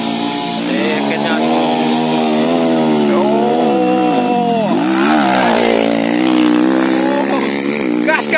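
A trail motorcycle revs hard at a dirt circuit in Jambi, loud and close, its engine pitch rising and falling through repeated throttle swells without a break.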